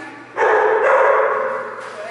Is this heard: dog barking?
yes